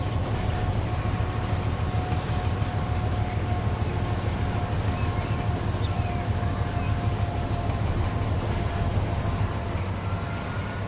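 A train rolls along in the Transport Fever 2 video game, giving a continuous low rumble of wheels on rails with faint tonal squeals, steady and loud throughout without pauses.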